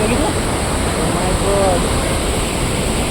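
Waterfall at Bhandardara dam near Nashik, a loud, constant broadband rush of falling water that fills the whole stretch, with faint voices partly buried in the roar.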